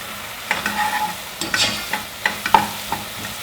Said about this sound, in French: histoire que ça caramélise, je vais mettre un petit peu de sucre maintenant.